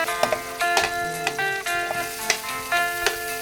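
Ginger sizzles as it is sautéed in a pan, a steady close frying hiss broken by repeated scrapes and taps of the spatula stirring it.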